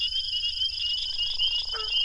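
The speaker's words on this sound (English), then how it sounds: "this recording of the Dusky Gopher frog's snoring croak from a pond in Mississippi" Dusky gopher frog giving a snoring croak in a Mississippi pond, a low rasping call over a steady high insect-like drone, fairly distant and continuous.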